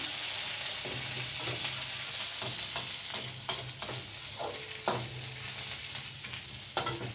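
Bay leaf, cumin and chopped ginger sizzle steadily in hot oil in a kadai, a continuous close frying hiss broken by a few sharp spatula clicks and scrapes from stirring.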